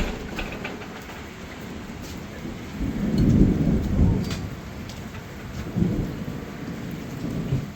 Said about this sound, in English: And it's raining pretty hard.